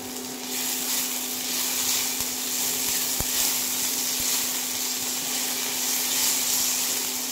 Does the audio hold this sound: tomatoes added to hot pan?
yes